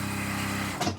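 A fast sewing machine stitches along a fabric mask strap in a rapid, even whir that stops abruptly after about a second.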